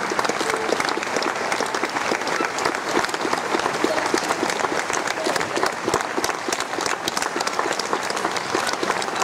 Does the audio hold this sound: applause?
yes